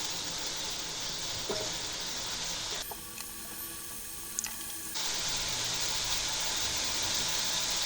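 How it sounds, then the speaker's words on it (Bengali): Spice paste of turmeric, chili, cumin and coriander powder with salt sizzling as it fries for katla fish dopiaza, a steady dense hiss that briefly drops and softens midway before returning at full strength. "লবণ হলুদ ঝালের গুঁড়ি জিরার গুঁড়ি আর সামান্য পরিমাণ ধনিয়ার গুঁড়ি দিয়ে নেড়ে চেড়ে মশলাটি কষিয়ে নেবো"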